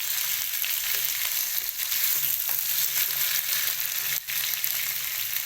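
Potato slices frying in a pan, giving a loud, steady, close sizzle that runs throughout, with a brief stir or knock near the end and no speech.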